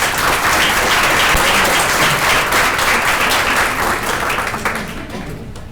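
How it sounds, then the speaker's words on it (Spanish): Strong applause from a seated audience at a lecture session, loud sustained clapping that holds steady and then tapers off near the end, with no talk over it. "Fuerte aplauso, por favor."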